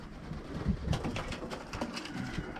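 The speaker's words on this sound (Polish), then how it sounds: "O, przepiękny gołąb." A pigeon coos softly several times near at hand against a faint background of light tapping and rustle, with no talk.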